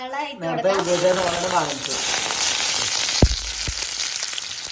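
Chopped onions dropped into hot coconut oil for a Kuttanad-style duck curry, setting off a loud, continuous sizzle that stays steady, with a couple of light utensil taps near the end and a brief voice at the start.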